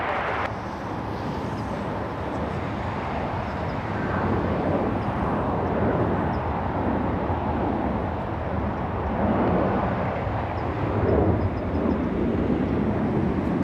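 An airplane landing on runway 24 left at LAX, heard as a steady, broad engine roar that holds throughout at a moderate distance, loud and continuous.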